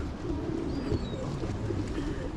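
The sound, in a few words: pigeons cooing in Norwich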